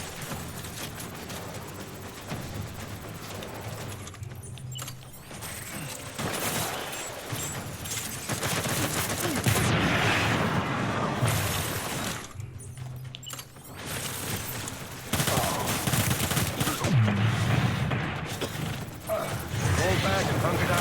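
Video game gunfire in Death Stranding, with bursts of rapid shots and crackling volleys rising and falling over a constant rumbling game soundtrack, with voices talking through much of it.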